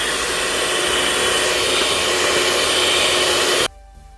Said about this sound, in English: So let's get whisking.